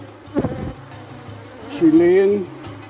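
Bees buzz around hive frames while old frames are cycled out, a close, loud drone that swells and wavers, with a brief burst near the start and a stronger sustained hum later on.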